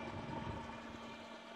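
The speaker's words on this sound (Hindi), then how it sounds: "और गाड़ी हो गई जनाब स्टार्ट, ठीक है जी, वेट करें, मैं आप लोगों को साउंड सुनवाता हूँ जी।" A 2004 Suzuki Alto VXR petrol car idles after starting, giving a quiet, steady hum that runs evenly throughout with no voices.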